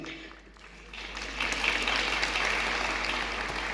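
An audience at a women's gathering claps, starting sparse and swelling into fuller, sustained applause after a second or so, heard from a moderate distance with no voices over it.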